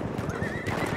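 A horse in Battlefield 1 gives a loud, close whinny that rises and holds near its end, with hooves clip-clopping steadily underneath and dense game-battle noise around it.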